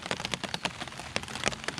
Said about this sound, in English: I've got the rain coming down,